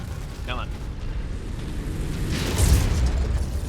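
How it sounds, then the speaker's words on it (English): An incoming missile explodes in a Gauss rifle video game as a rumbling boom that swells toward the end, with a gamer talking over it. "Incoming missile."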